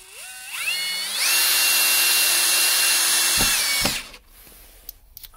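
A cordless power drill spins up and drives a screw into drywall mounted over a stud, the motor whine rising then holding steady for a few seconds before cutting off with a couple of clicks, close and loud.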